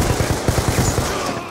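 Rapid bursts of automatic gunfire from a shooter video game rattle loud and close in a steady, dense stream.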